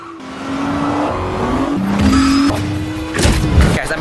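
Race car engines roar and rev up close, with sharp tire squeals and skidding sliding across rising and falling pitch.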